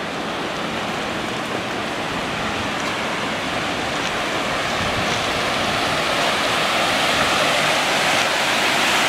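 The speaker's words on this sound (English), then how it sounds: "There's the water spilling away." Water spilling over the St Gabriel lock on the Lachine Canal, a steady broadband rush like a small waterfall, constant and fairly close, with no voices.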